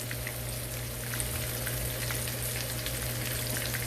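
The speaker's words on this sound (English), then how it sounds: "remember, I'm frying these on medium high." Steady, close sizzling of chicken wings frying in a hot pan on medium-high heat, a continuous crackle with a low hum underneath and no talking.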